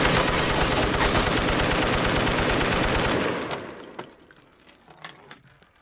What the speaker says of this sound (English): the machine gun fires off, killing everybody in the wreckage